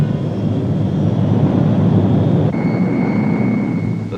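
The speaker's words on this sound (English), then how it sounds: "The C-130 Hercules, newest and most versatile addition to the Navy's air fleet" C-130 Hercules engines on a Navy aircraft resupplying Antarctic outposts drone loudly and steadily, with a low rumble and a tonal whine that shifts partway through.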